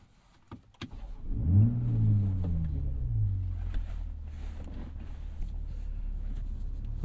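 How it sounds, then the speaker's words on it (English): A Toyota GR Supra with a BMW turbocharged inline-six starts up on a cold day, the engine flaring to a brief rev before settling into a steady low idle rumble, heard close from inside the car. "So this has BMW's turbocharged inline 6."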